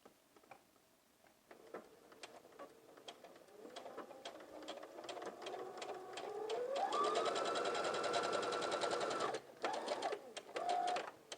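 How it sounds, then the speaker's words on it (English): A sewing machine stitches a garment seam for McCall's 7906, beginning with scattered ticks and short bursts, then settling into a fast, even run before stopping briefly and giving a final short burst of back stitching. "Okay, so we've sewn that seam in."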